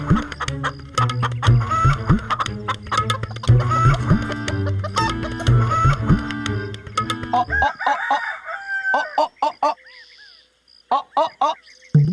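A red rooster clucking, heard first under music and busy sound, then as a string of sharp, separate clucks with short gaps near the end, close and clear.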